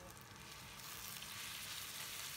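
Diced pork sizzling and frying in plenty of hot oil with minced ginger in a wok, a steady, dense crackle that holds loud and even throughout with no talking.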